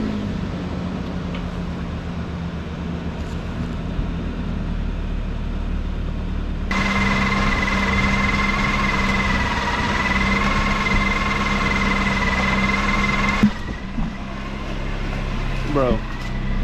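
The engine of a 1999 Nissan Frontier pickup truck runs steadily with a constant drone. Midway it rises to a louder, higher-pitched hum for several seconds, then settles back to idle.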